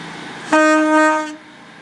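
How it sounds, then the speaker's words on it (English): A departing Great Western Railway train at Bruton sounds a loud two-tone horn, one sustained blast of about 0.8 seconds with a clear change in pitch, heard alone over quiet station ambience. "Great two-tone from the driver."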